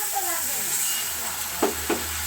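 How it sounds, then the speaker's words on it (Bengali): Water poured into a pan of spiced potato and pointed gourd curry sets off a steady, close sizzle with a couple of brief stirring scrapes near the end. "আর একটু অল্প পরিমাণে জল দেবো"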